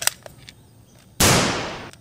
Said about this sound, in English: Cowboy pistol.